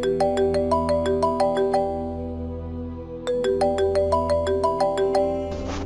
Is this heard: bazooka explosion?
no